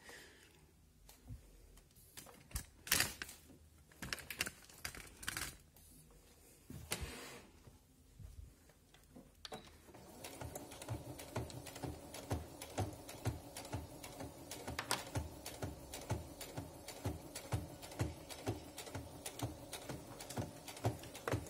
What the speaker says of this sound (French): moi je fais plusieurs points arrière et donc moi je fais plusieurs allers-retours